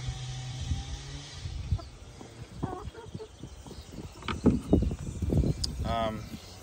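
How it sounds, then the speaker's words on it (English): Chickens cluck and murmur in short, irregular bursts nearby, with a few louder squawks toward the end. "We actually have 4 chickens."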